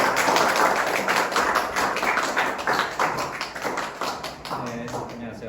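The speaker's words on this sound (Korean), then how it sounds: "큰 박수로 맞아주세요." Scattered clapping from a small outdoor audience greeting a speaker on a heritage walk along Dokseodang-ro, uneven and fading, with a few voices mixed in.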